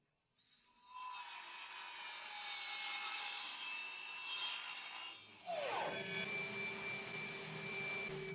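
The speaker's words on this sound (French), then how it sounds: "ce qui était facile à faire à la scie à onglet puisqu'elle était toujours réglée" A miter saw spins up with a high whine and cuts through wood for several seconds, then briefly pauses and makes a second cut.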